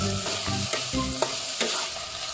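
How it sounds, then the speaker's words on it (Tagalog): Ham and chopped garlic fry and get stirred in the oil from canned tuna in a pan, giving a steady sizzle with scraping stir strokes close by and no voices. "tapos ilagay natin yung chinap na bawang dito sa gire. Medyo iprito lang natin siya dun sa oil ng tuna."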